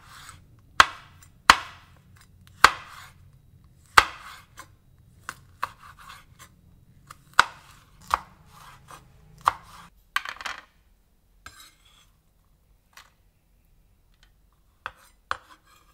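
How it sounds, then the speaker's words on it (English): Crisp, close knife strokes through a red chili on a cutting board, a series of sharp separate chops with a soft rumble beneath, then a few sparse taps after a pause, no talking. "Take 1 red chili, remove the seeds and slice it lengthwise."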